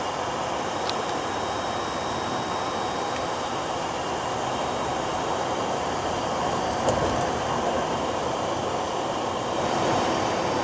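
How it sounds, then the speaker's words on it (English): A Brightline passenger train passing on the Florida East Coast line, heard as a broad, steady roar that holds for the full stretch and swells slightly near the end, with no voices. "First Brightline of the day"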